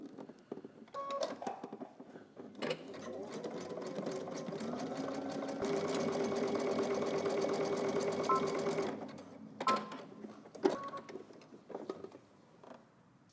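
A sewing machine runs a long zigzag stitch over elastic for a loungewear tank top, one continuous close, buzzing run of several seconds, framed by short starts and stops with fabric-handling clicks.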